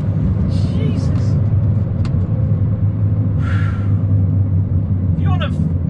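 A 400bhp R56 Mini's engine pulls hard under load, a loud continuous low rumble with brief sharper whines and bursts on top, heard from inside the car with a voice speaking over it.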